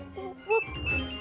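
A bright electronic ringtone chimes in short melodic bursts, close by and fairly clear, with faint room noise underneath.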